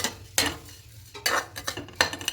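A spoon scrapes and stirs sugar and coconut in a pan over a gas flame, giving three or four distinct scraping strokes with quieter shuffling between them and no talking.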